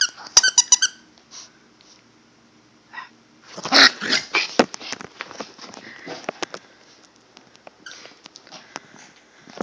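A dog named in the surrounding talk as excitable makes close, scattered vocal sounds and sniffing in short bursts over several seconds, with a few sharper yelps; barking and growling are not clearly distinct.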